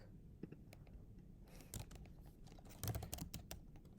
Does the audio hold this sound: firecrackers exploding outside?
no